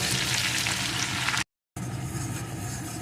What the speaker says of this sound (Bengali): এখন এর ভিতরে দিয়ে দেবো একটা পেঁয়াজ কুচি পেঁয়াজ কুচিটাও একটু ভেজে নেব